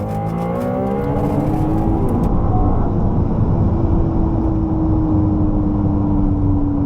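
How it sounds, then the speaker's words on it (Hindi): A powerful Ferrari 296 GTB V6 sports car engine roars steadily, its pitch slowly rising as it accelerates, loud and close throughout. "इससे बेहतर 6 सिलेंडर इंजन तो मैंने नहीं सुने हैं। Just here it again."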